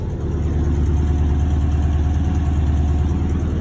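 A car engine idles steadily just after starting, a continuous low rumble held close and even for several seconds with no talk over it.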